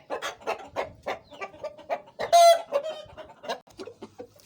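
An aggressive Aseel rooster clucks in repeated short bursts, then gives one loud crow near the middle before resuming its clucking, close to the listener with no voices.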